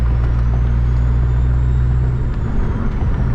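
A big-turbo Honda Accord drones loudly at high revs while shifting into sixth gear, a dense constant engine roar with a faint turbo whine and a brief dip as the gear changes.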